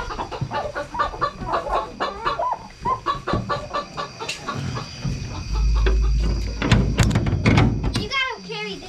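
Farm chickens, including a large hen, clucking and squawking close by in an ongoing chorus, with people talking over them and some rustling and handling noise toward the end.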